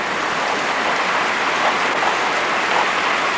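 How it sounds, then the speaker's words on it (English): Hail pouring down outdoors on a rainy day near a pool, a steady, loud, hissing wash of countless tiny impacts with no break and no voices. "So you can see the hail."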